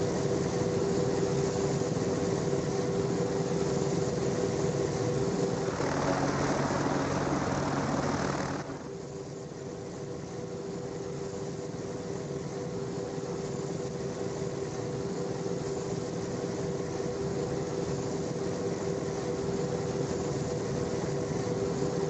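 An AH-64D Apache helicopter engine runs in ARMA 2, a steady loud droning whine with a rougher, louder burst for a few seconds before settling back to a constant hum, with no talk.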